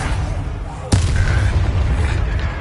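A Bombarda explosion spell going off in the video game Hogwarts Legacy, a single sudden loud boom with a sharp onset followed by a rumbling tail under ongoing game sound.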